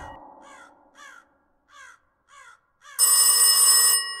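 In the horror game Rise of Insanity, a few crow caws sound first, then a telephone bursts into loud, shrill ringing for about a second.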